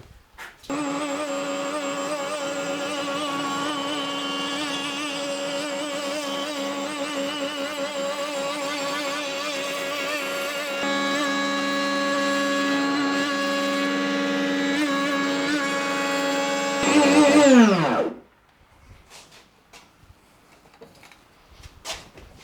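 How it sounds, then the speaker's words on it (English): An electric router with a round-over bit cuts and sands the edge of a Les Paul-style guitar body, a steady loud whine held for about seventeen seconds that rises slightly, then spins down and stops. "So let's get a round over bit on the rotor and pop it in."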